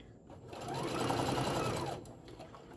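A domestic sewing machine runs in a steady continuous whir, stitching a plush craft bear's ear, close and fairly quiet, rising in the middle and easing off, with no talking over it.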